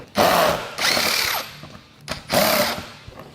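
A power drill backs out the hood bolts on a Polaris RZR Pro XP, heard as three loud whirring bursts of about a second each with short pauses between them, close by and with no talk.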